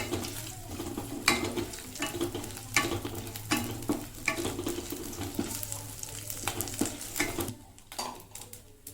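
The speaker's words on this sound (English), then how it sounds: "Saute it for a while till the mustard splutters" Mustard seeds and hing spluttering as they sauté in hot oil for vangibhaat powder, with steady close sizzling broken by irregular sharp pops and crackles throughout, no voices.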